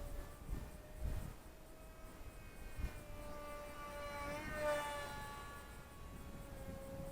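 A Skyhunter RC model airplane with a standard six-channel receiver and no gyro flies overhead, its steady motor whine rising and shifting in pitch as it banks and passes, fairly faint against outdoor background noise.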